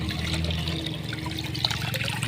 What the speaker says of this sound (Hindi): उसके साथ हम धो रहे हैं, कितना साफ़ और शफाफ पानी है।